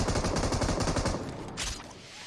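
Rapid gunfire in a shooter video game, a dense burst of repeated shots packed close together, loud and continuous for about a second and a half before thinning out into scattered echoing reports.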